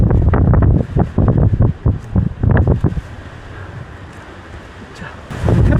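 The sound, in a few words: strong wind blowing on a mountain ridge, Duryunsan, Haenam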